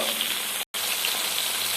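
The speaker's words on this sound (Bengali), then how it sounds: "মাছের পিস আমি দিয়ে দিলাম, ভালো করে ভেজে নেব" Bhetki fish pieces frying in hot mustard oil in a pan give off a steady, dense hiss and crackle, with one brief sudden cut to silence partway through.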